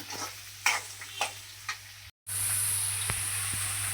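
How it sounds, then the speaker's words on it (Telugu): Onions fry toward brown in a pan with a close, steady sizzle, punctuated by a few sharp scraping stirs and a brief dropout midway, with no talking. "ఒక రెండు నిమిషాలు బాగా ఆ ఉల్లిపాయలు కొంచెం బ్రౌన్ బ్రౌన్ కలర్ వచ్చేటట్టుగా వేపుకోవాలండి"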